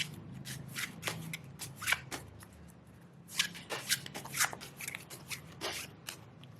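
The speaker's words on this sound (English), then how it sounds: "I feel like giving it one more shuffle" Tarot cards being shuffled by hand during a pick-a-card reading, a close, steady run of crisp riffling and slapping bursts that rises and falls over several seconds with no talking.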